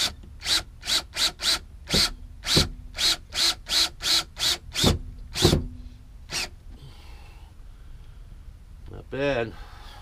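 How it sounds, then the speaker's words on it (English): A power drill drives screws into ball brackets on cargo doors, giving repeated short whirring bursts in a quick stuttering rhythm, close and fairly loud, then a pause with softer handling noise and a brief whine near the end. "And then we're going to put our screws in."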